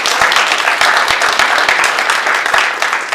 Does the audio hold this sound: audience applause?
yes